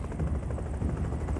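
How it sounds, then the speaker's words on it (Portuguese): A rescue helicopter flies during a night search over forest, its rotors making a continuous low, throbbing drone at steady volume. "O helicóptero excedeu suas horas de voo e precisa retornar à base."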